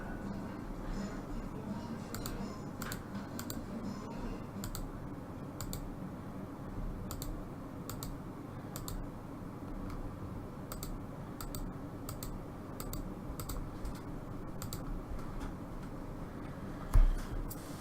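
Rapid mouse clicking in the idle game Adventure Capitalist, quick irregular clicks repeating close up throughout at a moderate level, with one louder knock near the end.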